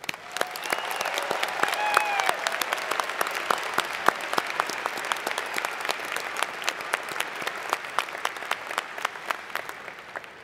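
Sustained applause from a large graduation ceremony crowd at Washington State University, a dense steady patter of many hands with a few sharper individual claps standing out, lasting the whole stretch without pause.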